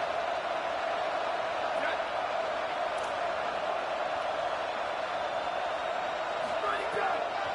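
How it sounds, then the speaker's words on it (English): A roaring stadium crowd in a college football video game, with Texas Tech facing Nebraska on third down: a steady, loud wash of cheering that holds throughout under a commentator's voice. "Guns up, and so is the noise. The crowd electric, trying to help Tech on this 3rd down."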